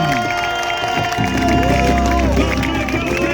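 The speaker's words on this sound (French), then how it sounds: "Tout le monde, je vais voir tout le monde lever les bras et applaudir comme il le mérite, l'équipage de Paprec Arkea, du bruit pour eux" A large harbour crowd cheers and applauds as a sailing crew departs on their racing yacht, while an announcer talks loudly over the noise.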